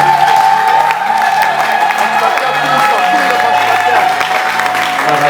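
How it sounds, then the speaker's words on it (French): A large crowd at a French-speaking church gathering applauds and cheers loudly in a sustained roar of clapping and voices, with a voice speaking over it. "Est-ce qu'on peut encore acclamer très fort?"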